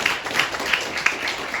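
A church congregation claps together during a Sunday sermon, giving steady, dense applause with a faint rhythmic pulse that holds for the whole moment.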